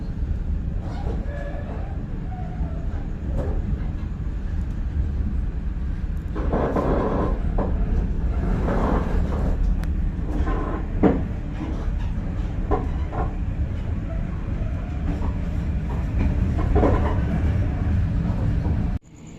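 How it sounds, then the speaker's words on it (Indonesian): A night express passenger train departs a station, rumbling steadily for the whole stretch, with rattling and clanking of carriages rolling along the rails, close and fairly loud. "kereta api Banyu Biru Express Malam 232 kembali diberangkatkan dari stasiun Padas"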